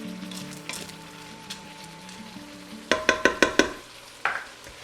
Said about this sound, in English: give everything a stir here